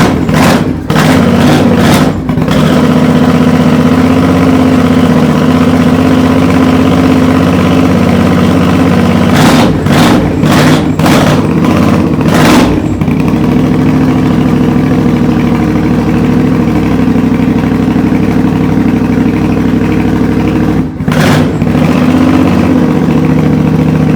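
Custom 2002 Triumph Bonneville 790 GAS Bomber motorcycle engine idling loud and close, a steady low throbbing rumble with a few brief sharp blips and pops scattered through the run.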